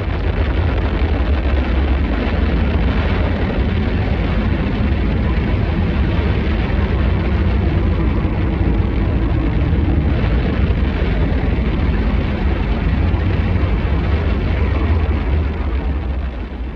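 The rocket motors of the last Space Shuttle launch produce a continuous, overwhelming roar that stays loud, dense and crackling throughout, with no pause.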